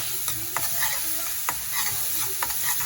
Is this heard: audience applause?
no